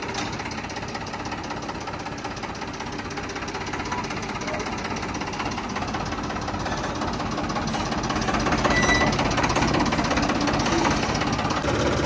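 A John Deere tractor engine running steadily at close range, a loud dense mechanical rumble with a knocking texture that swells slightly toward the end, with no clear talk over it.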